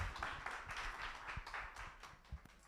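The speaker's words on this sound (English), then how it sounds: "Let's give him a round of applause." Scattered audience clapping at a startup meetup livestream in Nairobi, a quiet, thin patter of hands that stays faint and uneven throughout.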